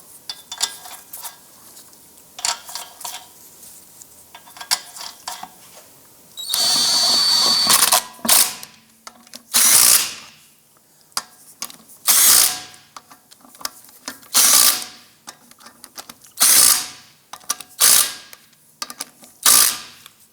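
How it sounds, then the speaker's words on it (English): Lug nuts spun onto a 2001-2007 Ford Escape wheel with a power tool, a long whirring run followed by repeated short bursts of buzzing and ratcheting, close and loud with quiet gaps between. "Get the lug nuts started. Once these are all on, go ahead and snug them down."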